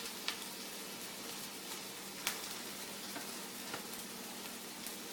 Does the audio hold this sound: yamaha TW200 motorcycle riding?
no